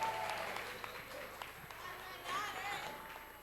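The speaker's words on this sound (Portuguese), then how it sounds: "Vamos aplaudir, honrá-las com a salva de palmas." Faint applause from a church congregation honoring women who served, soft scattered clapping in the background with voices audible over it.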